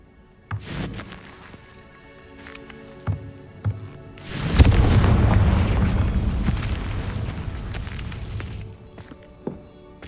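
A Confringo fire spell from the Hogwarts Legacy video game, heard as a loud booming explosion with a sustained rumbling blast after a few sharper pops and impacts.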